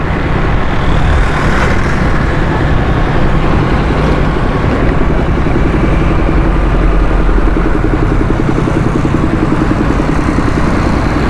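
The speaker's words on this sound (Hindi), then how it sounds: "वो देखें कैसे चला रहे हैं मोटरसाइकिलें," Motorcycles riding along a road, with a constant loud engine drone and traffic noise that carries on without a break and shows no distinct single passes.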